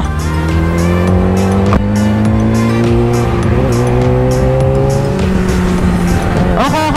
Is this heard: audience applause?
no